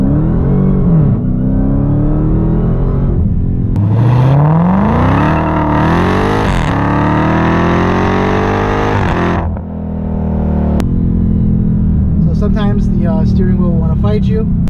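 A Dodge Challenger SRT Hellcat Redeye Widebody accelerates hard, its engine note and supercharger whine climbing steeply through rising gears, loud and close, before easing off and settling as a voice talks over the end.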